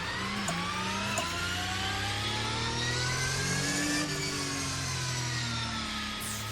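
A Porsche 992 GT3 R 2023 race car engine in the Assetto Corsa racing game, loud and continuous, holding high revs with the pitch climbing steadily over several seconds. No one speaks.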